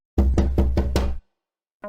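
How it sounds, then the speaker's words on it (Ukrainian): Five firm, evenly spaced knocks on a window, then a brief pause and the start of another knock, at night. "Я почув, що хтось стукає у вікно."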